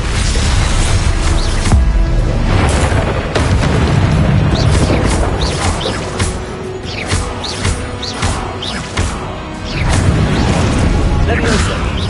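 Hogwarts Legacy spellcasting with repeated Confringo explosions, a rapid series of loud booms, bursts and crackling impacts with mechanical clatter, continuous and dense, while a voice calls out spell names throughout.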